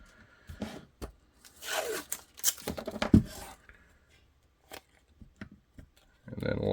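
Tape being pulled and wrapped tight around a custom Kydex-style holster, scattered close crackles, tearing strips and rustles in bursts separated by quiet gaps.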